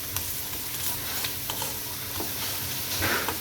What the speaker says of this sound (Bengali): মশলাটা আঁচটা একদম অল্প থাকবে তাহলে মশলাটা ভাজা হবে